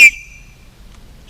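A single short, sharp whistle blast, the kind carried as a hiking signalling device, sounds loud and close, then rings out and fades quickly into near silence.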